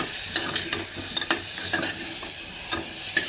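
A potato, pointed gourd and pumpkin curry cooks in a pan, with a spatula scraping and stirring in quick, uneven strokes over a constant close sizzle.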